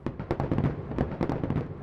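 Fireworks shells bursting in the sky, a rapid series of close, loud crackling pops and thuds packed together with no pauses.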